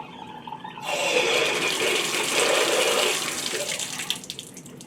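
Water bursts from an opened faucet valve on a plumbing rough-in, rushing steadily and loudly for a few seconds before easing off as the valve closes.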